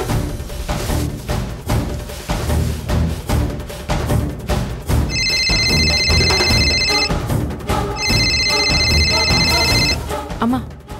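Landline telephone in a house ringing in two bursts of repeated electronic trills, loud and alone, after a stretch of busy background sound.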